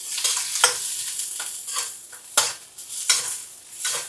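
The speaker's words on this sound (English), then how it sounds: "First thing I'm going to put in is our onions. Half a white onion. Get that going." Half a white onion hitting a smoking-hot pan, a bright continuous sizzle with repeated stirring scrapes and clinks of a utensil against the pan, close and clear with no talking.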